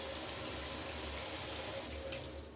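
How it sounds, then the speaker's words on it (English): A Bristan shower head runs steadily in a home bathroom, a continuous hiss of spraying water with a low hum underneath, even and unbroken throughout, with no voices. "It's a Bristan shower head."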